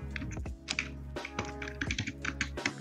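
Fingers clatter on a computer keyboard in uneven bursts of close, crisp key taps over a steady low electrical hum, with no one talking.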